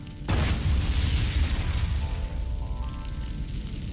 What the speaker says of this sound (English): negligent drilling conducted at Lawachara by another energy company caused a major blowout, resulting in a catastrophic gas explosion